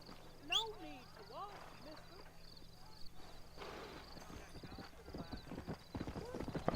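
In the video game Red Dead Redemption, a horse whinnies, then hooves clip-clop in a steady rhythm that grows louder, with people talking underneath.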